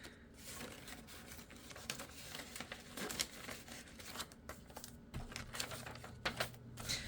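Close, soft crinkling and rustling as a crumpled paper dollar bill is handled and folded, irregular small crackles and taps at low volume.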